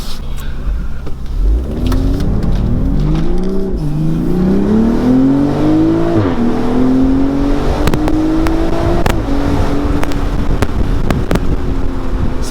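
A 2020 BMW Z4 M40i roadster with 382 horsepower, driven in Sport Plus on a South Carolina handling loop, accelerates hard with a loud, rising engine note that climbs through several quick gear shifts, close and continuous with some wind noise.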